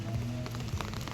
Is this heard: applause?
no